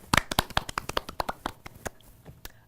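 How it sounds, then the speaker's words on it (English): Scattered claps from a small studio audience at a school-run TV show, a thin ripple of individual hand claps tapering off over a couple of seconds, fairly quiet with no talking. "Can I get a round of applause?"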